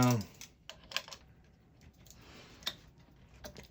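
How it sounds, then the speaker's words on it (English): A pedal wrench turns on a BMX bike pedal, producing a few sharp clicks and light ratcheting taps, close and fairly quiet, with brief handling noise between them. "now we get the pedal wrench going around"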